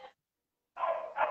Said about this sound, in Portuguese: Tá latindo, aprendeu a latir agora, não quer saber de outra coisa.